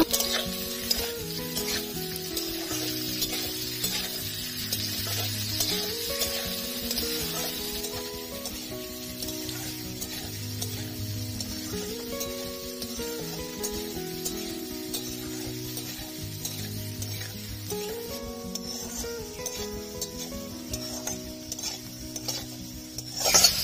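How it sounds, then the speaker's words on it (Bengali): Chopped onion and lightly browned potato fry in a pan, a continuous sizzle broken by repeated scraping and stirring of a utensil against the metal, close and steady with no one speaking. "আলু হালকা লাল করে ভেজে নিয়েছি, দিয়ে দেবো পেঁয়াজ কুচি"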